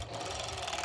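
A sewing machine runs steadily at close range, stitching elastic onto stretch fabric with a continuous whirring hum.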